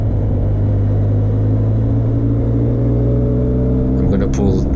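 A Benelli TRK 502 X motorcycle fitted with a 15-tooth front sprocket pulls away under acceleration on the road, its engine rumbling loud and close with a steady drone and rising tone as it gains speed.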